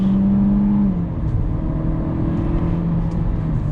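A 2022 Changan Eado Plus engine revs up steadily in sport mode during a test drive, a continuous loud drone that rises slightly in pitch and holds, with no talk over it.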